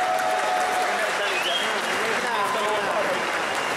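A crowd applauds at a cosplay contest awards ceremony in Budapest: loud, continuous clapping with voices and cheers mixed in throughout the short stretch.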